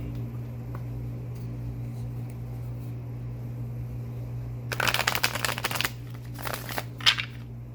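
Someone shuffles a deck of tarot cards. A quick papery riffle lasts about a second, followed by a few shorter flutters, all over a steady low room hum with no speech.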